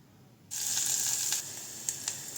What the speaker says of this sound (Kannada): ಇವಾಗ ಕಟ್ ಮಾಡಿರುವಂಥ ಈರುಳ್ಳಿ ಹಾಕ್ಕೊಳ್ಳಿ. ಈರುಳ್ಳಿ ಕೂಡ ಚೆನ್ನಾಗಿ ಫ್ರೈ ಮಾಡ್ಕೊಳ್ಳಿ.